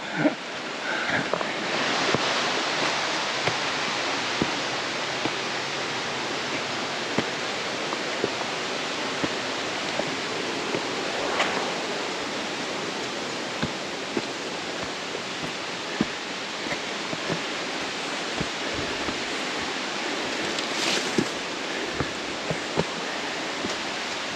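A waterfall beside a rocky gorge hiking trail, heard as a broad constant roar of rushing water with a little wind buffeting the microphone, steady and unbroken for the whole stretch.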